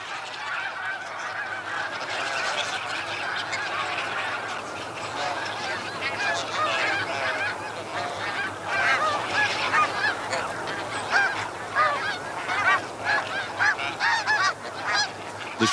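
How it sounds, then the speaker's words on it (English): A large flock of snow geese honks continuously, a dense, overlapping clamor of many birds calling at once, steady and loud throughout. "the sight and sound of these blizzards of snow geese filling the air"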